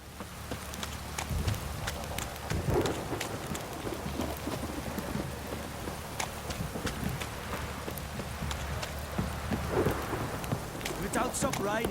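Steady rain with rolling thunder in The Witcher 3 on PS5, a continuous hiss under intermittent clopping hooves and distant rumbles, with faint voices in the background.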